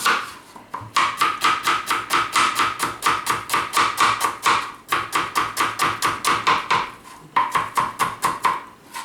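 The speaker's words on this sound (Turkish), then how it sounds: "Soğan da doğruyorum" Onion being chopped with a knife on a board, a fast even run of sharp close taps in three long bursts separated by brief pauses, with no talk.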